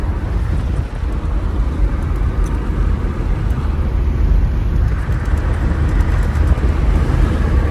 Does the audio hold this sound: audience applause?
no